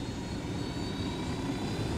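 A support helicopter called in during Ghost Recon Wildlands gameplay, a steady, fairly faint whirring engine drone with no speech over it.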